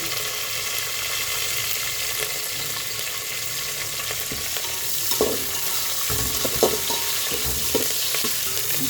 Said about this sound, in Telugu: బాగా ఫ్రై చేసుకుందామమ్మా